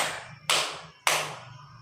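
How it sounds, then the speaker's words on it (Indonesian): Two sharp hand claps about half a second apart, loud and close, each ringing briefly in the room, with a faint low hum underneath and no talking. "tepuk pagi 1, tepuk siang 2, tepuk malam 3"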